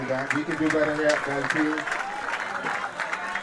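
A crowd applauds at a junior road tennis tournament, steady clapping throughout while a commentator talks over it.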